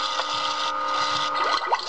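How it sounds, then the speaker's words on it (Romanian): A stuck faucet runs in a haunted house in the Paranormal video game, water flowing in a steady, close hiss with faint squeaky tones, no voices over it. "Tocmai mi s-a prins robinetul."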